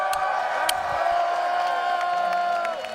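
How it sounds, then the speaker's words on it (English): A crowd at a Tekken 8 fighting-game tournament, Combo Breaker, cheers and whoops loudly and steadily, with scattered shouts rising above the continuous roar throughout. "all the beautiful people that are in the crowd, make some noise"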